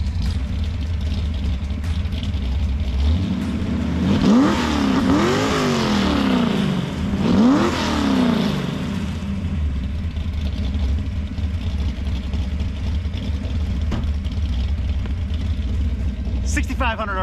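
A 1966 Ford Mustang with a 289 V8 idles with a low rumble and is revved twice in quick succession midway, each rev rising and falling, with someone talking nearby.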